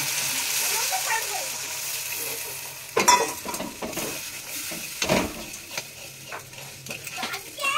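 Water goes into a pan of sizzling fried spice paste for a fish curry, with a sudden splash and burst of hissing, then stirring scrapes and bubbling over a steady fry.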